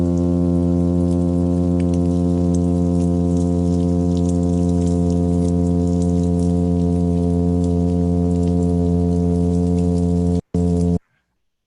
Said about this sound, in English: they kept hearing this humming sound that was really annoying and that kept them awake for most of the night